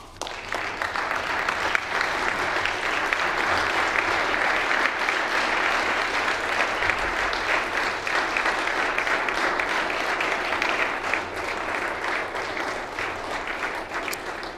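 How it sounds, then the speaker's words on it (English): Sustained round of applause fills a legislative chamber, a dense steady wash of many hands clapping at even loudness for nearly fifteen seconds, honoring a remarkable Manitoban, Mrs. Pat LaRue, and her son Todd. "join me for a round of applause for a life well lived"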